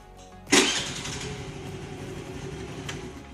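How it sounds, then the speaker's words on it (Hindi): A Honda Activa 3G scooter engine self-starts with a sudden loud catch, then settles into a steady, close idle that runs without any talk. "सेल्फ स्टार्ट में स्टार्ट हो रहा है,"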